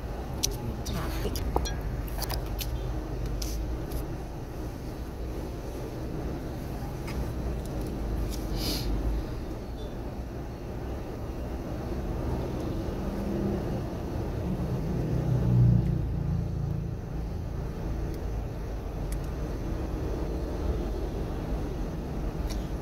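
Steady low road-traffic rumble fills the inside of a car waiting at a stoplight in Muzon, with occasional faint clinks and soft voices now and then.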